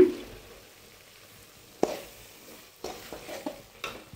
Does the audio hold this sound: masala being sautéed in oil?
yes